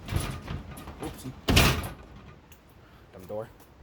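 A single sharp door bang rings out mid-clip during a ceiling fan install, with a person talking before and after it.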